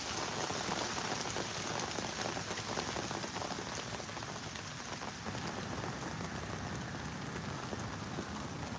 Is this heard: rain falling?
yes